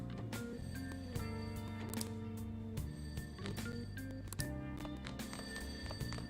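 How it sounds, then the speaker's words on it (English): A telephone rings on the floor below in the video game Persona 5 Royal, a quiet repeating ring buried under sustained game music and ambient tones. "Why is the phone downstairs ringing?"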